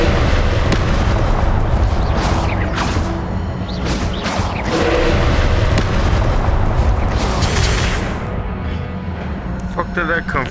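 Explosive Confringo spell blasts in Hogwarts Legacy combat, a run of loud booms and bursts over dense game effects and music, with a player speaking between impacts.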